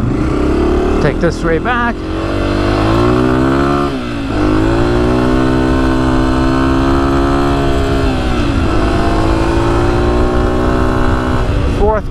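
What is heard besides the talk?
Honda CRF250F dirt bike riding in the desert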